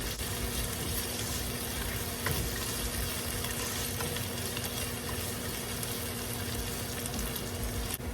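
A steady, dense sizzle of frying in a hot pan carries on with faint scraping as the mixture is stirred before the rice goes in for Filipino garlic fried rice (sinangag), with a low constant hum beneath it.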